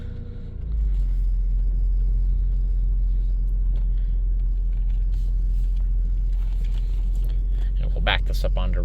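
A 1997 Dodge Caravan LE minivan with a sticky lifter starts moving, a loud steady low engine and road rumble building after a brief start, with some clattering knocks near the end and a voice speaking.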